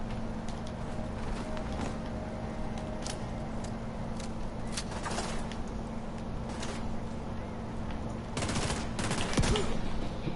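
Rapid bursts of video game gunfire, a fairly quiet, steady crackle of shots with sharper, louder volleys near the end, over a continuous low mechanical hum.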